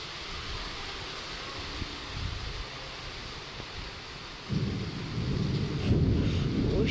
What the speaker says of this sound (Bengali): কি পরিমাণে ঝড় হচ্ছে।